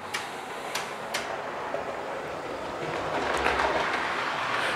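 A PIKO model Traxx electric locomotive runs along model railway track, giving a steady close rolling rumble with a few sharp clicks early on, growing slightly louder toward the end.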